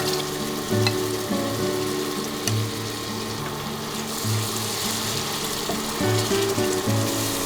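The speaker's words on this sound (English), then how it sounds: "Fry the masala well with the oil." Masala with split green cardamoms fries in oil for a Bengali stuffed pointed gourd dish, a steady close sizzle running throughout with a faint recurring tonal hum layered underneath.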